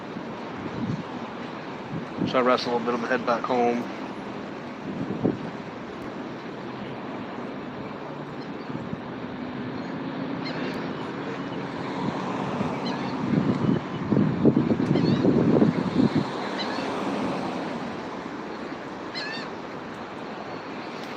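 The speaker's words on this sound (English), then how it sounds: "It's really windy right now." Strong wind roars outdoors as a steady broadband rush with gusty swells, loudest toward the middle. Someone speaks briefly over it.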